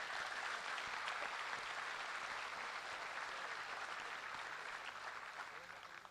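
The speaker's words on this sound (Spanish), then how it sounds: "Un fuerte aplauso quiero pedir para el compañero y para todos los compañeros de la cultura" Sustained applause from the audience at a PIT-CNT labor union gathering in Uruguay, a dense steady roar of many hands clapping throughout, fading slightly at the end.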